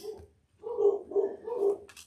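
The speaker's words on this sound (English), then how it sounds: "Sorry for my dogs going crazy right now" Dogs bark indoors in a short run of three muffled, rhythmic barks after a brief quiet gap, moderately close, with no talking over them.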